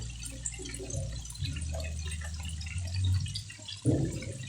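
Vinegar is poured into a pan of papaya adobo, a soft trickling liquid sound that runs steadily for a few seconds, followed by a brief louder splash, close and without speech.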